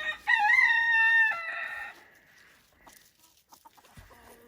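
A silkie rooster on a small chicken farm crows once, loud and near, followed by faint clucks and rustling.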